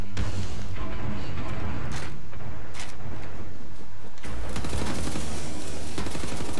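A laser-cutter gun fires in the shooter game Wolfenstein: The New Order on PS4, with loud, dense bursts of rapid discharges and crackling impacts that ease off briefly and then resume.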